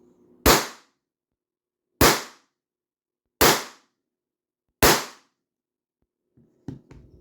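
Four sharp, loud shots from a Beeman BP50 air pistol, evenly spaced about 1.5 seconds apart, each with a quick decaying crack, followed by faint handling clicks at the end.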